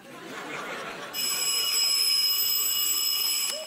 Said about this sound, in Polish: Nie, dopiero pierwszy dzwonek.